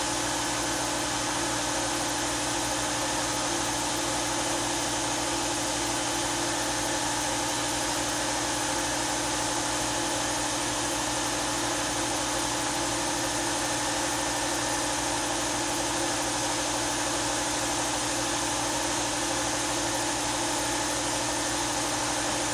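A 1969 Oldsmobile Vista Cruiser engine idles while warming up, a steady, unbroken mechanical hum with constant vibration and no talk.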